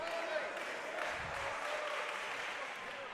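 Crowd applause and cheering fill a men's college volleyball arena as fans rise to their feet at a UCLA vs George Mason match, a dense, steady wash of clapping and voices with no clear break.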